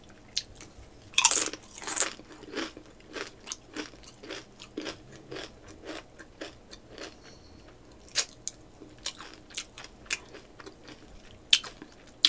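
Close-up crunchy bites and chewing of smash burger tacos, sharp crisp crunches at irregular intervals with a loud bite early on, intimate and quiet between bites, no talk.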